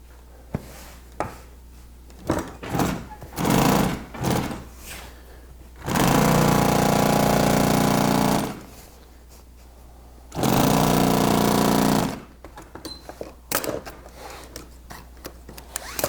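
A sewing machine with tight thread tension stitches Bimini top boot fabric, two loud sustained runs of about two seconds each, framed by quieter clicks and fabric handling.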